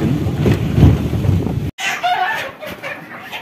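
Chickens cluck and crow at a market during Eid al-Adha shopping, a busy mix of fowl sounds with wind and crowd noise that breaks off briefly, then returns as scattered clucks in the background.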